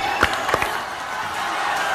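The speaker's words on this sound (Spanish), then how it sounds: "Un aplauso para nuestra primera finalista." Pageant audience applauds a finalist, a dense, steady wash of clapping with a few sharp thumps near the start.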